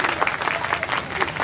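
An audience at a Hindi poetry gathering applauds, a dense patter of many hands clapping at moderate volume through the whole short stretch.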